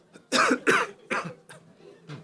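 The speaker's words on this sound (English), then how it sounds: "A little cough there." Several short, sharp coughs, two strong ones close together followed by a few softer ones, close and clear with no talking.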